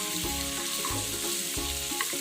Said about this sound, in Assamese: এক মিনিটমানৰ কাৰণে এইখিনি বাটাৰত ফ্ৰাই কৰি ল'ম।